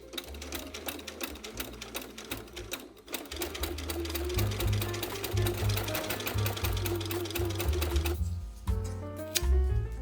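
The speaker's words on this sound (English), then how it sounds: "I basted or pinned it quite heavily in place so that I could just sew it in place using one seam" Sewing machine top stitching faux leather binding, a rapid mechanical needle clatter that starts slow and uneven, then speeds into a steady run before stopping and restarting near the end.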